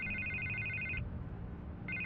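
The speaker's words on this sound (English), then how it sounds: "I can't get the phone to stop ringing." Electronic telephone ringing in the video game Batman: The Telltale Series, a steady repeating ring that cuts off midway and resumes near the end, over a low ambient game background.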